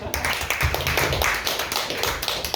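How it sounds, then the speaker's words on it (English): A comedy club audience bursts into brisk, dense applause, many hands clapping close and loud for a few seconds. "give yourselves a round of applause for that"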